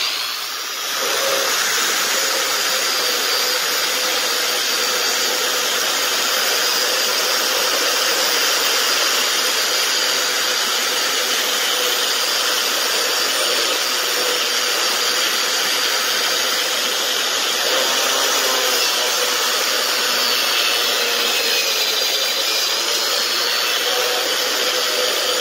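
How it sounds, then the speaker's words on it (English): A wire wheel on a power tool cleaning the hub during a hydraulic brake service on a school bus conversion: a loud, unbroken high-pitched whine and abrasive hiss lasting the whole time. "To clean this part of the hub, you can go ahead and use a wire wheel or something."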